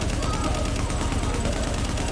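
Sustained automatic fire from an M249 machine gun in The Division, a continuous loud stream of rapid shots with no break in the clattering burst.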